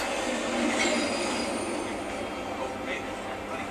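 A metro train arrives in the video game Hitman Absolution: a steady rumbling rail roar with squealing wheels and clatter, moderately loud and continuous throughout.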